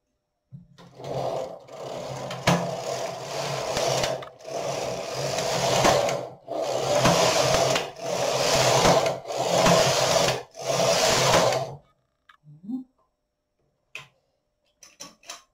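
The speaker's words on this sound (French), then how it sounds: "je vais tricoter sur toutes les mailles" A knitting machine carriage sweeps across all the stitches in six loud, even passes of whirring clatter, each about a second and a half long with short pauses between, ending in quiet scattered clicks.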